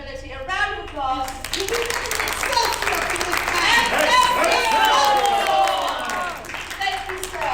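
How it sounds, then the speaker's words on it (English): Audience at a comic con compliment-dueling event breaks into applause, a dense crowd clapping that builds and holds for several seconds, with a voice speaking briefly at the start. "A round of applause."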